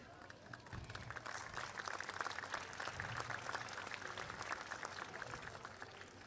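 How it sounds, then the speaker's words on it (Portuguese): A crowd applauds steadily at an outdoor evening event in a cathedral square in Portugal, dense clapping sustained at an even level with no voices rising above it. "Uma vez mais, uma salva de palmas para todos vós por terem participado nesta noite."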